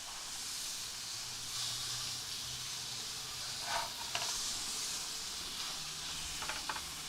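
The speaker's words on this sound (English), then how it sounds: "And you can hear that sizzle." Chicken and vegetables sizzle in a pan as they cook for a roast with balsamic vinaigrette, a steady soft hiss running throughout with a few faint clinks and bursts of spitting.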